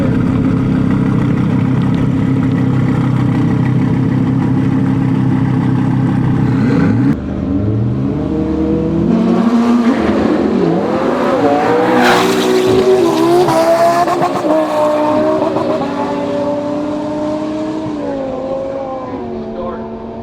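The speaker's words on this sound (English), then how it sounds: "Travis Thompson driving the McLaren in the right lane" A twin-turbo Lamborghini and a McLaren launch side by side down a drag strip, loud engine roar and tire squeal building and then rising in pitch as both cars accelerate away and fade slightly.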